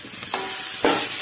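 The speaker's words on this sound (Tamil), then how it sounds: "மல்லி இல புதினா இலையும் சேர்த்துக்கலாம் இதெல்லாமே கொஞ்சம் நல்லா வதங்கட்டும்" Coriander and mint leaves sauté in a hot pan with a constant sizzling hiss and two brief scraping stirs, heard close and alone.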